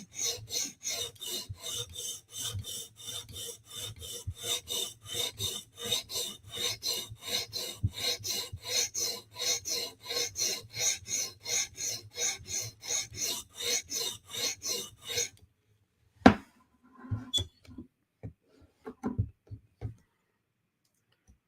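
Rhythmic rasping strokes of a knife edge drawn across a sharpening stone to raise a burr, about thirty even back-and-forth scrapes, close and clear, then stopping, followed by a few scattered light clicks and taps.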